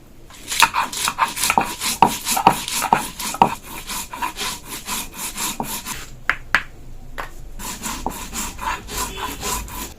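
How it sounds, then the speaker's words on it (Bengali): Rice and three green chillies are ground by hand on a stone grinding slab, a rhythmic series of near, scraping rubs and knocks repeating steadily, with a brief pause partway through. "আতপ চালের সাথেই আমি 3টা কাঁচা লঙ্কা বেটে নিব।"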